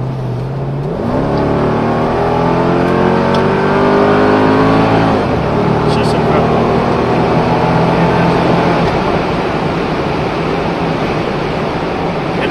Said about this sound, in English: So if I push it, for example, in sport, it also shifts later.